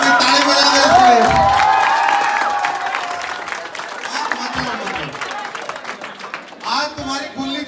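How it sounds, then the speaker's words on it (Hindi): A crowd of schoolchildren claps and cheers loudly for a student, the applause swelling early, then thinning under a teacher's voice before a fresh burst near the end. "ताली बजा दो इसके लिए"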